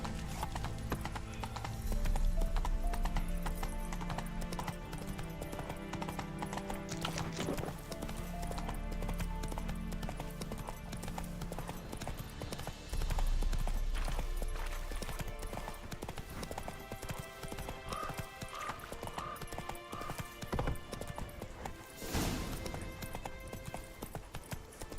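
Roach the horse gallops in the Witcher 3 video game, steady rhythmic hoofbeats running throughout with a brief whinny, set against game music and ambient effects.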